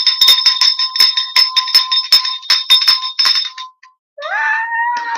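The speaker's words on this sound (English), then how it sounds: "I'm about to ring the bell." A hand bell rung repeatedly in quick, loud, ringing strokes for about four seconds, then a short pause and a different sliding tone near the end.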